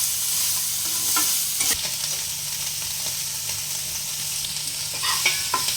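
Soybean chunks fry in hot oil in a pan for a chhola dal recipe, a steady close sizzle broken by a few spoon scrapes and clinks as they are stirred; no one speaks.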